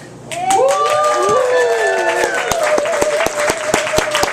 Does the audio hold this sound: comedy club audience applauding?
yes